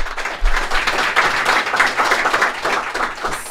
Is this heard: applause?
yes